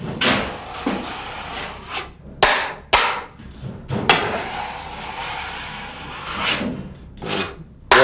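A drywall knife drawn under heavy pressure across joint compound on a drywall seam, making repeated rasping, scraping strokes with sharp knocks and clicks between passes. The strokes are close, fairly loud, and uneven in length, with no talking.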